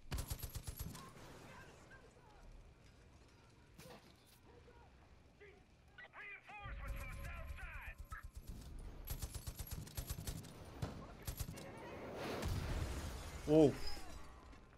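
Gunfire crackles in the Far Cry 5 video game, scattered sharp shots and short bursts spread across the stretch amid game effects and quiet stretches, with a voice talking at times.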